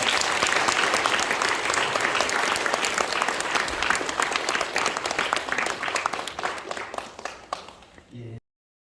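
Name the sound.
warm applause welcoming a speaker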